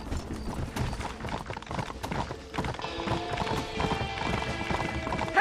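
Horses gallop in Red Dead Redemption with steady rhythmic clip-clop hoofbeats close by, layered over game music and occasional whinnies, loud and continuous throughout.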